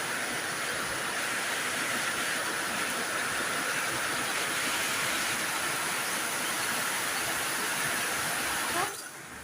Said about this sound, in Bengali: কি পরিমাণ বৃষ্টি হচ্ছে